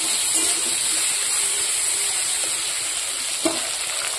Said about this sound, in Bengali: আলুগুলোকে আগে লাল লাল করে ভেজে নিই